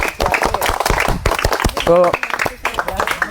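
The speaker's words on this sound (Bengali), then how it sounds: "দর্শক বন্ধুরা একটু হাততালি করে দাও" An audience at a televised game show claps in a brief burst of scattered hand claps, mixed with voices and talk.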